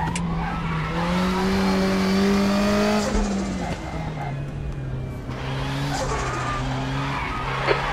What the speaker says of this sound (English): Seeing right front locking into Tazenbocht.